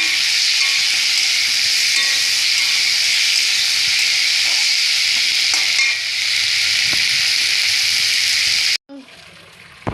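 Cauliflower with tomato and onion frying in a pan with ginger and ground spices, a steady loud sizzle and hiss running close and unbroken for most of the time, then cutting off abruptly near the end.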